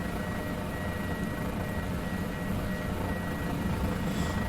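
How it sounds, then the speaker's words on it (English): Guimbal G2 helicopter in Microsoft Flight Simulator 2020, heard as a steady, dense rotor and engine drone that holds constant throughout, with no talking over it. "because I want some helicopter noises."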